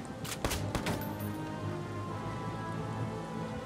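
Rain in the Valkyria Chronicles 4 video game during a storm battle, a steady soft hiss of falling rain under faint game music, with a few sharp clicks near the start.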